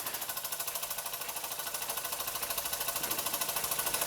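A Mamod SP2 model steam engine with a bent frame runs steadily, giving a fast, even chuffing and mechanical clatter that stays loud and close throughout.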